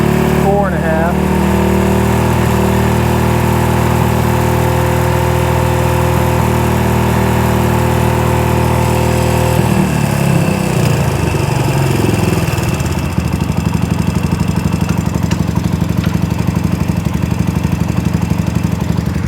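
A Yamaha Raptor 125 ATV engine idles close up, a loud, steady, slightly ticky mid-pitched putter that wavers and dips partway through, then settles back into a rough idle.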